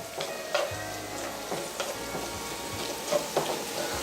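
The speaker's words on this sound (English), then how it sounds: "once the green chilli are fried properly, now add the onions. So once again mix it properly" Green chillies and onions frying in oil in a pan and being stirred, a steady close sizzle with scraping stirs and soft clicks of the spoon against the pan.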